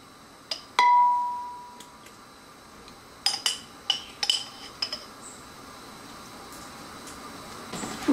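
Metal utensil clinking against a bowl or dish while dried tomatoes preserved in olive oil are mixed, a ringing strike early on followed by a cluster of sharp clinks and taps, close and otherwise quiet.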